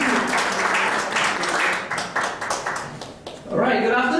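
An audience at a keynote session on building rapport gives a round of dense, sustained applause to welcome an NLP trainer to the stage, and a voice speaks as the clapping dies away.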